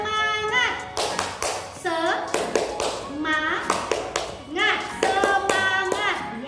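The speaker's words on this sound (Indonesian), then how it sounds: "kita tepuk semangat dulu ya. Oke, tepuk semangat." A school class doing a rhythmic spirit clap (tepuk semangat), with bursts of sharp hand claps in a set pattern alternating with children's voices chanting between the claps.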